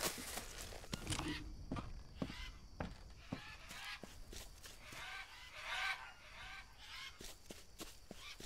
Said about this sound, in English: It's awfully loud here with those stupid parrots, huh?